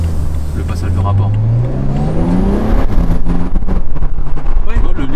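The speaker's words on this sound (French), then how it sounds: "regarde le passage de rapport." A BMW 335i accelerates hard, its engine note climbing steeply, dropping at a gear shift and rising again, loud and close with brief voices over it.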